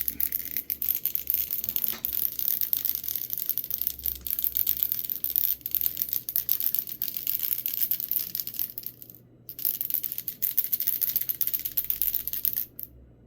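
A small mixing ball rattles and clicks inside a Mr. Color paint bottle in repeated shaking bursts, close up, with brief pauses between shakes.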